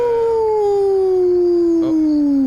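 A person imitates a werewolf howl with one long, loud, sustained howl whose pitch glides slowly downward, close up and alone, with a brief break in the voice near the end.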